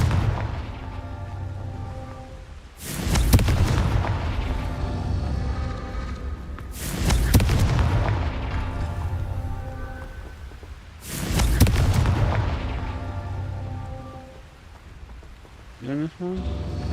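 Three loud Confringo blast spells boom in Hogwarts Legacy, each a sharp crack swelling into a rumbling roar that slowly fades, spaced about four seconds apart over ambient game music.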